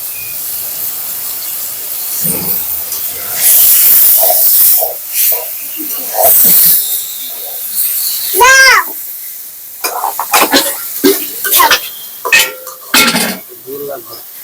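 Fresh tomatoes tipped into a hot pan of fish curry with local haor fish and potatoes, hissing and sizzling in bursts with utensil clatter and stirring, loud and close.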